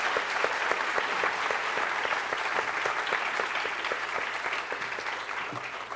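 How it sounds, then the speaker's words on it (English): Audience applause at a middle school dedication ceremony for student performers and their teachers, steady dense clapping from a large seated crowd that holds for the whole stretch and eases slightly toward the end. "Let's give all our student performers and their teachers another round of applause."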